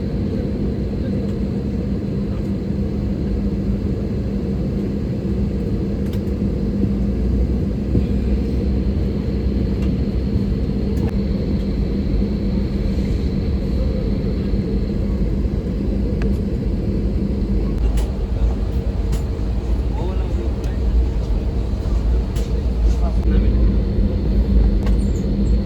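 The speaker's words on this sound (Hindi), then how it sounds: "अब हम आ गए हैं रनवे पे। उधर देखिए दूसरे फ्लाइट्स भी खड़े हैं।" Airplane cabin on the runway, a constant low engine rumble and airflow hum filling the cabin steadily and loudly throughout, with faint muffled sounds over it but no clear talk.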